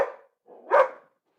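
A pet cat in a house full of animals lets out a short bark-like call, with a faint earlier yelp before it and a tiny trailing sound at the end, close and alone.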